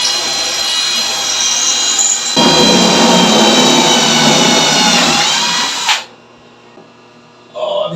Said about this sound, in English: Have a quick drill there to see how it goes the other side